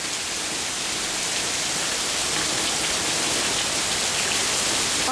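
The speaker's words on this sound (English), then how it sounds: "Oh, this freaking rain." Heavy rain pours down in a dense, unbroken hiss, loud and close, drowning out everything else for the whole stretch.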